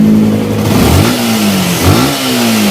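A motorcycle engine with a 60 mm ceramic cylinder revs hard twice, its pitch climbing quickly each time over a steady rumble, loud and close.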